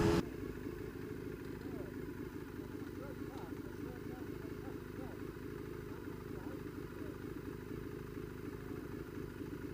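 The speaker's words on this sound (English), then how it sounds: "I think that might be a GSXR 1000 actually. It's very nice." A Suzuki GSX-R 1000 motorcycle engine rumbles steadily on a winding road, a faint, continuous mid-range drone with wind noise throughout.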